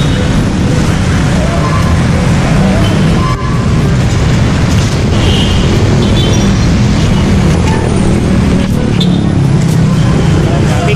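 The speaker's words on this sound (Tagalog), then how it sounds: "Traffic talaga, traffic" Dense street traffic in Santa Cruz, Manila near Odeon Mall during the Christmas season, heard as a constant loud rumble of engines and road noise with occasional louder passing vehicles, while someone talks over it.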